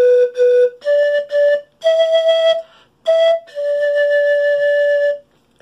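A quena flute plays the Padre Nuestro melody in clear, close, breathy notes: several short repeated tones, then longer held ones stepping upward, with brief gaps between phrases.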